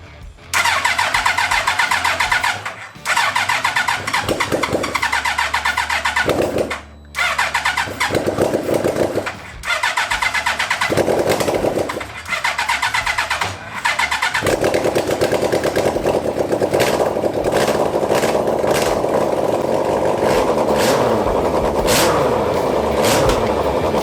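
A Chinese Hayabusa trophy buggy's engine, with no exhaust fitted, cranks repeatedly in loud bursts, then catches and roars continuously, running rough and very loud without any muffling.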